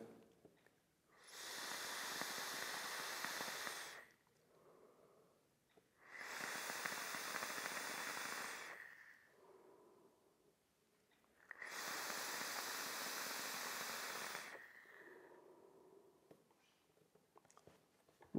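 A Taifun GS III atomizer, a GSL clone, releases vapour in three long breathy hissing draws separated by short quieter pauses, close and soft, with no talking.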